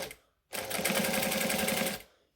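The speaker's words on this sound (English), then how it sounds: "So I'm going to stitch across the end just because it's quicker than back stitching and tying off." A sewing machine stitches across the end of a vinyl key ring wristlet in one short, loud, close burst of rapid rhythmic whirring, with quiet before and after.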